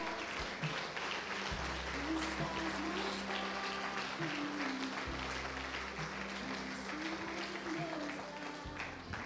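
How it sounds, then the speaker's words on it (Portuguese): A church congregation applauds during a celebration service, a soft, steady wash of clapping held under sustained low music and faint talk, even and distant for about nine seconds. "dá uma salva de palmas para o Senhor Jesus"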